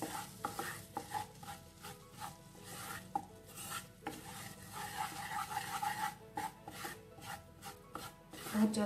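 All-purpose flour is stirred in a pan for white sauce, with a spoon scraping and rubbing close up in an uneven rhythm over a faint sizzle, and no talking.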